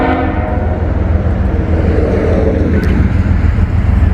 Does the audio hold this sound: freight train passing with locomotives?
yes